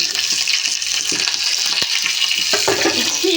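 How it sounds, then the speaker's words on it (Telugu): Garlic and curry leaves fry in hot oil in a kadai, a bright continuous sizzle with scattered pops and stirring clicks, close and fairly loud. "ఆయిల్ అయితే వేసానండి, బాండీ పెట్టి దాంట్లో వెల్లుల్లిపాయలు అయితే వేస్తున్నాను."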